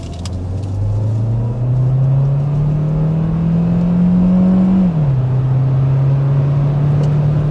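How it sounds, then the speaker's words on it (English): A 2024 Hyundai Tucson Hybrid N-Line accelerates hard, a loud close engine whine rising steadily in pitch, dropping briefly at a gearshift, then holding on, with no talk. "we'll go ahead and start with a hard acceleration"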